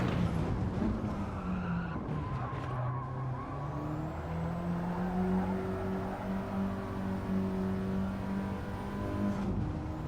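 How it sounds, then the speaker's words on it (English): A race car in a racing video game brakes late and skids, its tyres squealing in long sustained tones over a steady engine drone that holds at an even, moderate loudness throughout. "I braked way too late."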